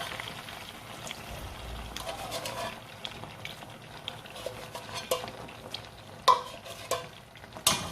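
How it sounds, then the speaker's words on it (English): Broth water is added to frying okro soup and the pot is stirred, giving a steady close sizzle with scraping, clinking strokes that grow sharper toward the end. "I'm going to be adding some water from my broth rather"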